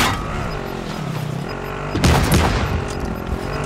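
Gunfire from a Warzone match, a burst of heavy shotgun blasts clustered near the middle, loud against steady game ambience and muffled background chatter.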